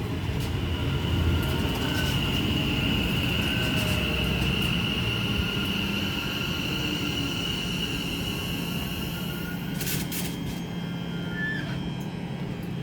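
A West Midlands Railway class 730 electric multiple unit passes at Tring on the West Coast Main Line, a loud, sustained rushing roar with rail rumble and a faint high whine, steady throughout.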